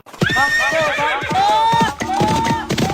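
A horse whinnies loudly and close by in a sound effect, one long rising and falling neigh followed by a shorter second call.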